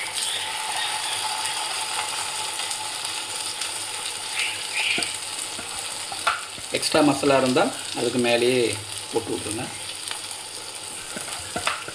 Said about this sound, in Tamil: இதை நம்ம பேனில் போட்டு பொரிச்செடுக்க போகிறோம்.